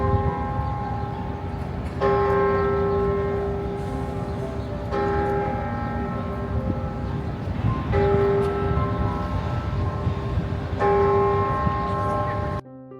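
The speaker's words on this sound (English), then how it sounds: "Oh, listen to the bells chime." Church bells chime in Philadelphia near the President's House site, a steady layered peal with strong sustained tones, struck anew about every three seconds and ringing loud and continuous throughout.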